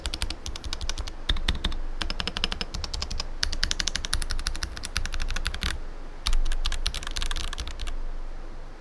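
Rapid, steady typing on an Asus ROG Azoth keyboard fitted with a mix of quiet and default switches, close-up clicks and clacks running continuously with brief pauses, no voices.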